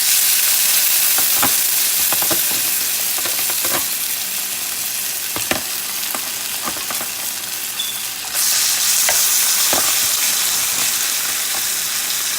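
Pork chops frying in a glaze in a hot pan, a loud, steady sizzle that fills the whole stretch, broken by occasional sharp crackles and pops.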